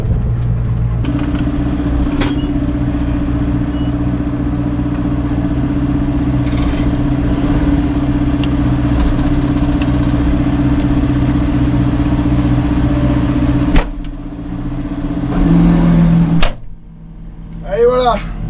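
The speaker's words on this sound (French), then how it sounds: "Maintenant je mets le tracteur à l'abri" A farm tractor engine idles with a steady low drone throughout, followed by a few clunks and a brief rev near the end as the machine is put away under shelter after tillage work; a voice talks over it.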